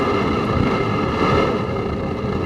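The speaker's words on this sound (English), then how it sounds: "We could also hear the wind picking up." Wind picks up outdoors beside a drip-feed waste oil heater, a steady broad rushing and buffeting that stays close and fairly loud throughout, with no voices.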